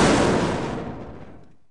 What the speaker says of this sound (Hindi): और पटाखे में एक जोरदार धमाका होता है।